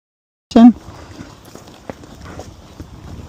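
A 14-year-old Kentucky Mountain Horse gelding steps over a root on a narrow trail, giving a sharp opening knock followed by soft, irregular hoof thuds and rustling nearby.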